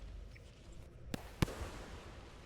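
Explosions in the video game Rain World: two sharp, faint bursts about a third of a second apart, the second stronger, over a quiet game ambience.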